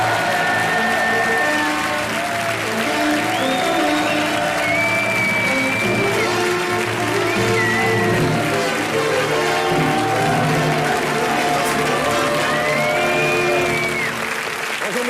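Sustained studio audience applause on a French TV show welcoming a guest, loud and continuous with a few whistles rising above the clapping.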